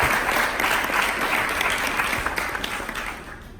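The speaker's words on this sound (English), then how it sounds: "Yes, applause." A hall full of people applauds sponsors at an evening event, dense continuous clapping from a crowd that holds steady and then slowly thins toward the end, with no voices over it.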